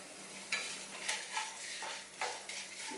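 Crushed peanuts frying in a pan while a spoon stirs them, with scraping strokes and small clinks over a continuous sizzle for sabudana khichdi; no one speaks.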